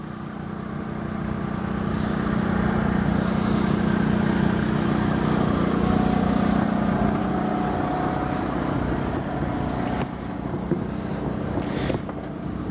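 A 2.8 generator on a 1995 Coach House 192 TB Class B camper van runs with a loud, steady low drone and hum that holds throughout, with no voices over it.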